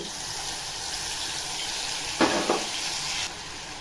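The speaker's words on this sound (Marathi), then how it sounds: "गॅसवर कढई ठेवलेली आहे तेल टाकलेलं आहे बघा आता हे आलं लसणाची पेस्ट टाकते" Ginger garlic paste frying in hot oil in a kadhai, making a continuous sizzle that flares briefly louder in two quick bursts before settling back into a steady hiss.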